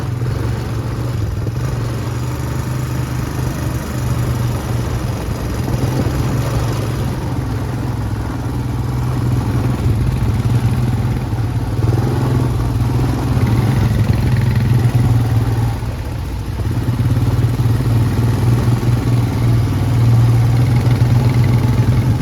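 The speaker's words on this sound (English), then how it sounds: "Obviously it's a lot of noise from the bike" An ATV engine drones steadily and close throughout a ride through the jungle in Belize, a continuous rumbling motor with rattling and wind noise and small swells in loudness.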